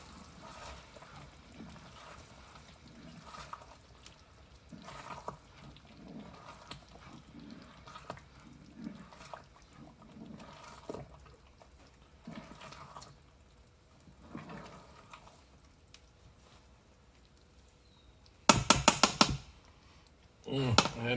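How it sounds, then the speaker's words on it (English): Thick chili simmering in a pot gives soft, low bubbling and plopping, fairly faint, then a brief loud clatter near the end. "Well, now we got a nice simmer to it."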